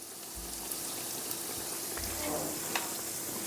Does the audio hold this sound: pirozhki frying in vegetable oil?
yes